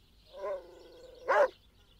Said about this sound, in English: a large Italian mastiff with floppy jowls and brindle fur